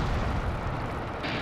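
A tank cannon in a combat video game, heard as a loud, sustained low rumbling boom that fills the whole moment with heavy roar.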